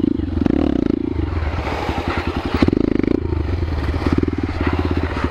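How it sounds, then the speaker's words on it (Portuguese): A motorcycle engine sputtering and idling unevenly with rhythmic clattering pulses, close and fairly loud, alone without talk. "Eita, pô, a moto ligou, ligou sozinha."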